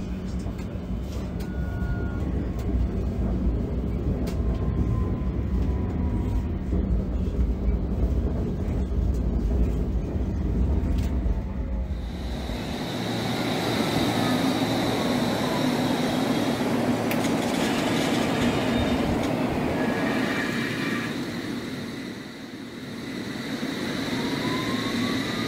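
A London Underground Metropolitan line train pulls into Platform 3 for southbound services, a heavy rumble for about twelve seconds that gives way to a quieter hiss and brake squeal as it slows, with a voice talking throughout.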